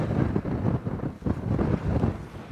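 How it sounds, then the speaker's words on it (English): Strong gusting wind buffets the microphone on an exposed mountain trail to Szrenica in the Karkonosze mountains, a continuous loud low roar with surging gusts and no talk. "It's so windy."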